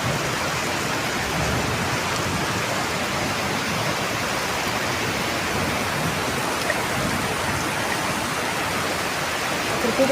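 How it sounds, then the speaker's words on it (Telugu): Heavy rainwater rushes through a small canal in Balanagar during a downpour, a loud, steady, close roar of churning water and rain with no break. "బీభత్సమైన వాటర్ పోతున్నాయి ఫ్రెండ్స్"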